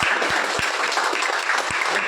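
Audience applause for a top-scoring Class 10 or 12 student at a school celebration, a steady burst of clapping with no talk over it.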